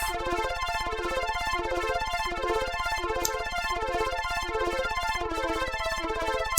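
A buzzy synthesizer plays a repeating pattern with a thick, shimmering, doubled quality from a chorus effect, steady and continuous.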